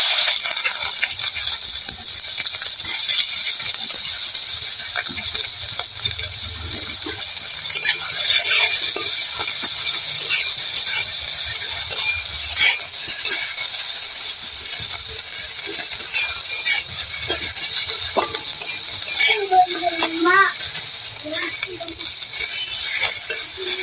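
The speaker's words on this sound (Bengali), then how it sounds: "আমার পেঁয়াজটা ভাজা হয়ে গেছে" Chopped onion fries with panch phoron spices in a pan, a steady crackling sizzle with occasional stirring scrapes, close and continuous throughout.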